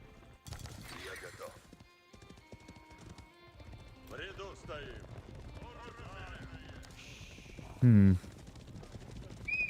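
Cavalry hooves clip-clop in an Age of Empires IV match, a scatter of galloping hoofbeats and a horse whinny mixed with game effects, a crash and a loud burst near the end, under steady commentator talk.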